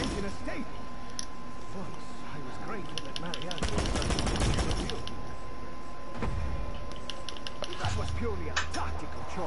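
Rapid machine-gun fire rattles in a video game, with clustered bursts and mechanical clatter over a steady background hum, while someone talks over part of it.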